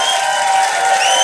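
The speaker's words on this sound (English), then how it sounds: "give her a big round of applause" Audience applause for a playwright at a live radio-hosted event, a dense, steady wash of clapping with some crowd noise, loud and close throughout the short stretch.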